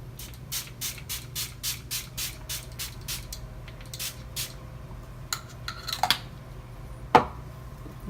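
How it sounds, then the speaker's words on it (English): Too Faced setting spray is spritzed all over a face in a quick, even series of about a dozen close, soft hissing pumps, followed by a few faint handling clicks and a light knock, with no talking. "So I'm going to go ahead and spritz this all over."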